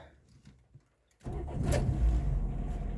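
A GAZ truck pulls away and drives on, its engine rising from near silence into a steady, loud low rumble that continues to the end with no talking.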